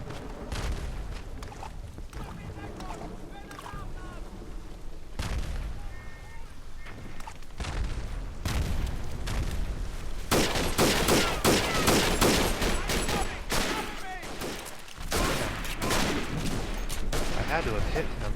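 Rapid bursts of rifle and machine-gun fire in the World War I trench shooter Verdun, dense crackling volleys and booms rising and falling over about eighteen seconds, loud and close with brief lulls.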